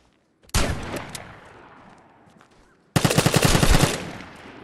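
Shotgun blasts in an online shooter game, two loud close bursts, the first decaying slowly and the second a rapid rattling volley.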